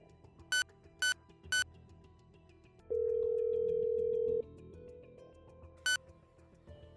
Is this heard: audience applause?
no